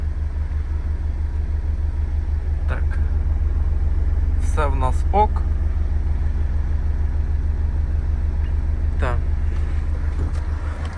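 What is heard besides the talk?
Renault Scenic 3 2.0 dCi diesel engine idling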